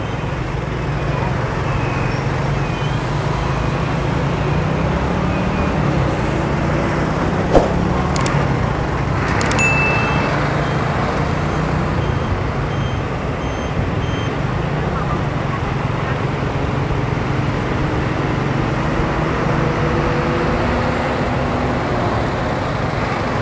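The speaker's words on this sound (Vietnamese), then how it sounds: "tiếng ồn của xe cộ rồi tạp âm bên ngoài đủ thứ hết" Steady road traffic noise surrounds a rider in the street at a junction in Biên Hòa, with continuous engine rumble, passing vehicles and a few sharp clicks and knocks, loud and unbroken.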